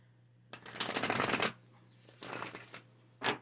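A Muse Tarot card deck being shuffled by hand, two bursts of riffling paper, the first about a second long and the second shorter, then a brief final snap, close and clear over a low steady hum with no talking.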